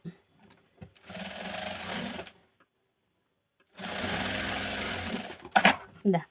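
Sewing machine stitching a folded churidar neck, two bursts of steady rapid whirring close by, each about a second or more long, separated by quiet pauses, followed by a few short clicks and knocks at the end.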